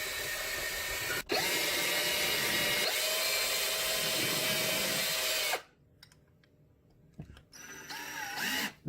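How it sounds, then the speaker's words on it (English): Power drill boring small pilot holes into wood for mounting blind brackets, a loud steady whir for several seconds with a brief stop, then quieter intermittent bursts as the bit spins up again. "I'm making small pilot holes where I made my marks."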